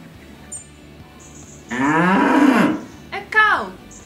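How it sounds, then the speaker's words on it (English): A cartoon cow gives a single loud, drawn-out moo after a quiet stretch, followed by a couple of short, sharp sounds. "A cow."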